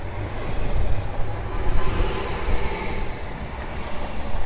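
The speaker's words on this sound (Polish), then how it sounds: "Flirty ruszają." Flirt electric multiple-unit trains pull away from Warszawa Gdańska station with a loud, steady low rumble and rising motor hum that swells and eases, with no voices.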